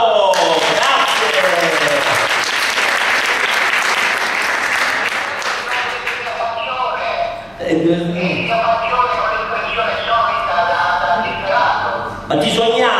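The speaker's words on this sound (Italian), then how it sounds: "Un applauso." An audience claps loudly and steadily for several seconds, briefly thins, then resumes at full strength, with voices and some music-like tones mixed in.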